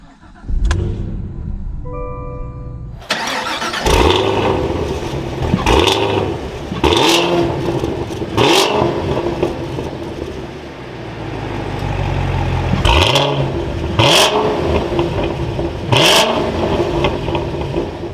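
A 2022 Cadillac CT5-V Blackwing with manual gearbox fires up with a loud cranking start, then settles into a deep idle broken by several sharp, throaty revs, close and loud throughout.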